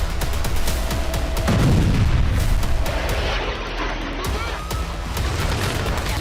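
Artillery bombardment along the Israeli border, with dense, continuous booms and rumbling blasts filling the whole stretch, loud and chaotic, with no clear pauses between hits.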